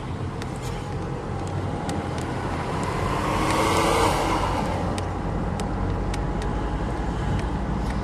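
Car driving along a coastal road in Acquedolci, Sicily, a steady engine and road rumble heard from close by, swelling slightly midway, with no talk.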